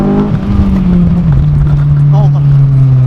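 A Honda S2000 engine roars loud and close under acceleration, its pitch sliding down after a shift and then holding steady, with a voice speaking over the engine.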